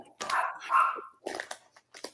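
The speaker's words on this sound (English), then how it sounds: "I think Puppy Queenie is getting excited about the food" An excited puppy anticipating food gives short yappy barks mixed with rustling and crinkling, close and loud, in quick bursts with brief gaps, while a person talks over it.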